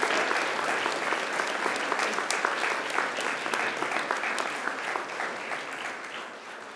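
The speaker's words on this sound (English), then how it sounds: "now I invite you to give them a mighty round of applause." Graduates at a Macquarie University graduation ceremony applaud their families and friends, a loud sustained wash of many hands clapping throughout, fading slightly toward the end.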